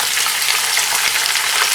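Chicken pieces hitting hot oil with onions and green chilies in a pot for chicken pulao, a loud, close, unbroken hiss of frying for a brief moment.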